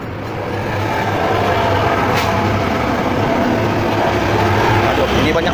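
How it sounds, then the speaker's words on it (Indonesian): Cars and construction vehicles pass along a road near a scooter repair spot, a continuous loud rumbling traffic drone with speech over it. "Nah, ini mobil lewat, mobil proyek banyak, ini noise banyak ya."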